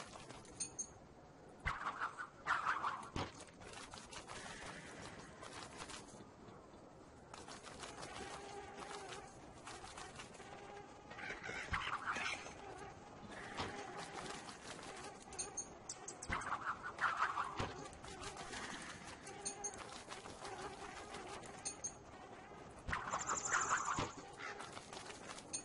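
Snowbirds in the video game Don't Starve, scattered short cawing and chirping calls that come in bursts over a quiet game background, with occasional clicks and rustles between them.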